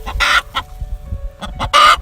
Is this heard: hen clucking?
yes